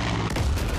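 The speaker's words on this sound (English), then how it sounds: "Oh, he's dropping a bomb." An exploding bomb in a video game, heard as a short, dense, loud boom with heavy low rumble filling the moment.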